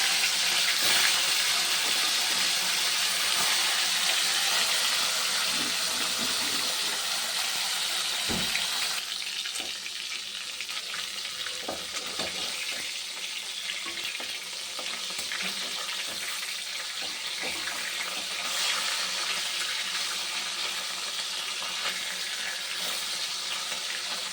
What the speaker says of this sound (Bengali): দেখো আগে ভোলা মাছটা ভেজে নিই। কড়াই গরম হয়ে গেছে, তেল দিয়ে দিলাম